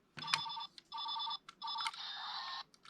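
A Power Rangers Megaforce Robo Morpher toy phone rings with close, loud electronic bursts, four repeated ringing pulses separated by short gaps.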